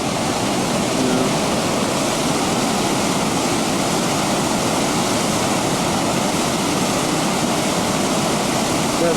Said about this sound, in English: That's some waterfall.